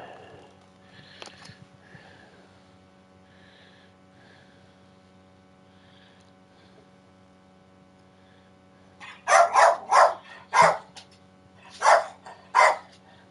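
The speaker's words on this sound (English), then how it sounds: "Bad dog. You don't need to bark." A dog barks loudly and close by in a quick series of about six sharp barks near the end, following a long quiet stretch with a steady low hum in the background.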